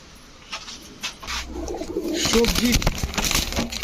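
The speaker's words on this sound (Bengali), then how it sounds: "দেখেন DRPFC ক্লাবের কবুতর" A pair of club-tagged racing pigeons, a male tiger grizzle and its mate, coo softly in a loft, a few low rolling coos partly under someone talking.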